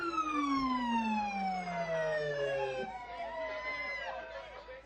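A police car siren sounds at a Christmas parade, its tone sweeping down and then wailing up and down as it passes at a moderate distance, with crowd noise in the background.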